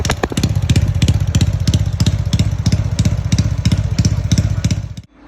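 A Honda Dream motorcycle engine, upsized from 53 to 57 mm bore, runs steadily up close with a fast, even rhythmic chugging throughout, cutting off abruptly near the end.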